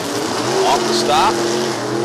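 Drag racing cars launch off the start line at an NHRA Division 4 event at No Problem Raceway, a loud engine roar rising briefly while an announcer speaks over it.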